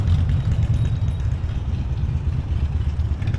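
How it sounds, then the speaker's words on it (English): A city bus in New York pulls away with a low, steady diesel rumble and engine drone, fairly close and continuous with no voices. "That bus is going."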